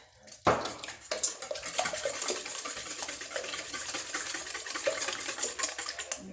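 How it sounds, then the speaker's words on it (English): Eggs seasoned and splashed with milk are whisked briskly in a bowl for scrambled eggs, a steady rapid clatter of whisk against the bowl that runs on continuously after a sharp opening knock. "Whisk it up."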